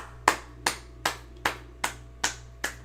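Seven sharp, evenly spaced claps ring out close by in a slow, steady rhythm, celebrating a plushie crowdfunding campaign reaching full funding.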